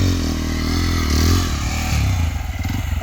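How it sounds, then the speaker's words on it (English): A motorcycle engine revs hard and unevenly while the rear wheel spins without traction, loud and close, with clattering and scraping mixed in. "the rear wheel was just spinning"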